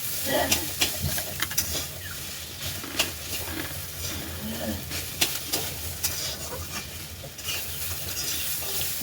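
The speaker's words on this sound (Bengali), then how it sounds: "মুড়ি ভাজা" Puffed rice is stirred and fried in a pan at home, a soft crackling hiss with scattered light scraping clicks, fairly quiet and continuous, with faint talk in the background.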